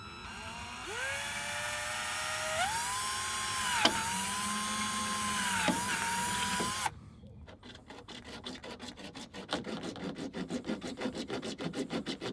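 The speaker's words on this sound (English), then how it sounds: "I'm going to use a 4mm drill bit here, and I'm just going to drill the pipework out" A high whining drill with a 4mm bit runs with rising and falling pitch, then gives way to a rapid rhythmic rasping as it works through plastic pipe.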